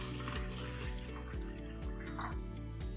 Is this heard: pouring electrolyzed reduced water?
yes